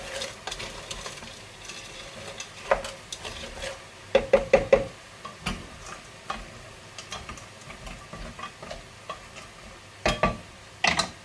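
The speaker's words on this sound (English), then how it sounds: "a little stir, make sure everything's stirred up in there." A frozen-vegetable chilli sauce gets stirred in a pan, with a spoon knocking and scraping against the metal in irregular clusters over a soft, wet sizzle, sometimes quiet and sometimes in sharper bursts.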